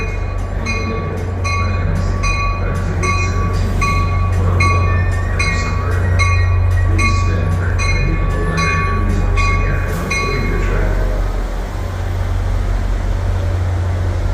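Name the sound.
train leaving Hoboken station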